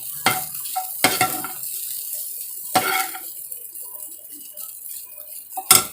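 Egg bhujiya is stirred in a pan with a utensil, giving several loud scraping strokes at irregular intervals over a low background sizzle, ending with a final sharp scrape.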